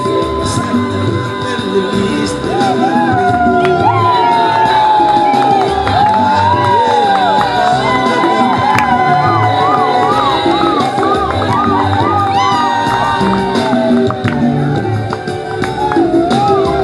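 Wedding guests in a church cheer loudly and continuously, with whoops, high shouts and ululating voices rising over a dense, reverberant crowd roar that lasts throughout.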